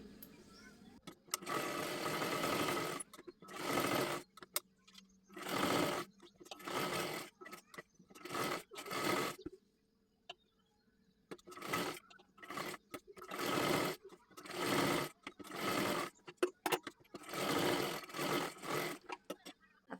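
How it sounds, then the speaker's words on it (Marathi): A sewing machine stitching along the edges of a blouse and its lining, running in repeated short bursts of rapid whirring with brief pauses between runs, close and clear. "आता हे दोन्हीसुद्धा व्यवस्थित आपल्याला कडेकडेला एकदम व्यवस्थित शिलाई करून घ्यायचं आहे"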